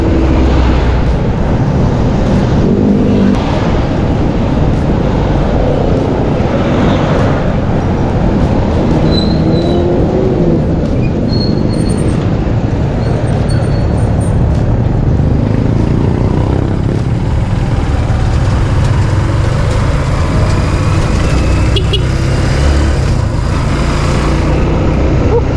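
Continuous loud rumble of road traffic on the way to Lipa, heavy low vehicle drone filling the whole stretch with passing engines and faint higher tones, no voices.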